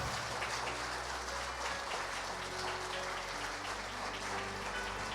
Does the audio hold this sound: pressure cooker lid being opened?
no